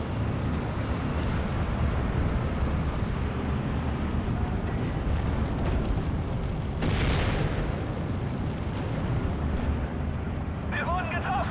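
Huge 380mm rocket blasts roar in a war video game, a dense, continuous booming rumble with a sharper burst partway through, loud throughout and with no talking.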